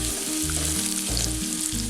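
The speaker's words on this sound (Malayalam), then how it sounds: "ഇഞ്ചിയും വെളുത്തുള്ളിയും പച്ചമുളകും ഒക്കെ ഒന്ന് നന്നായിട്ട് മൂത്ത് വരണം" Ginger, garlic, green chili and Kashmiri chili powder fry in oil for Chicken 65, a loud, dense, close sizzle running throughout with a low rumbling undertone and no voices.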